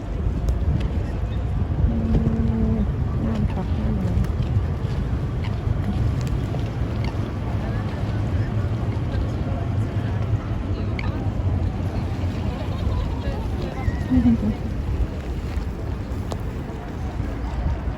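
A tourist boat cruises on a river with a steady low motor drone, mixed with gusty wind buffeting the microphone and occasional voices in the background.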